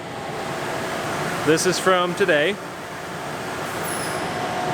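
A Kern machine making Saga pens runs with a steady mechanical hum and whir in a workshop. Someone speaks briefly partway through.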